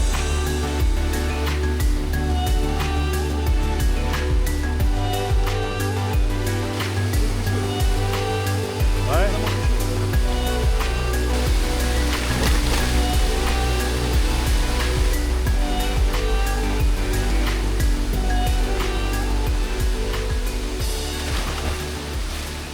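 Steady, loud rush of a waterfall in the Philippine mountains fills the whole stretch, a dense broadband roar with no pauses and no voices.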